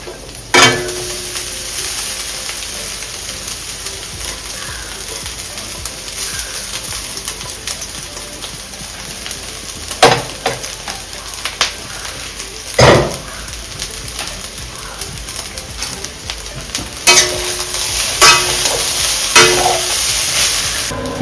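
Boiled rice being stir-fried with onion and carrot for chicken fried rice, a soft continuous sizzle with occasional sharp scrapes and clinks of a utensil against the pan, close and alone.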